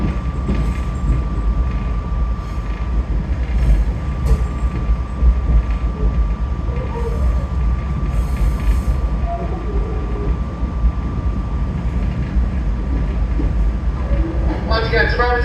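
SEPTA commuter train at 30th Street Station, a loud, steady low rumble of the train in motion with faint clicks, while a voice speaks over it.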